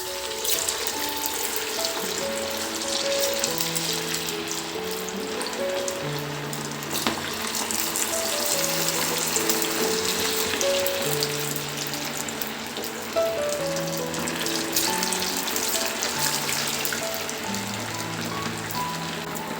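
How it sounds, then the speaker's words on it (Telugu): Chicken pieces for Chicken 65 fry in hot oil over medium heat with a steady, even crackling hiss that runs throughout beneath background music. "ఇప్పుడు చికెన్ వేసుకుందాం."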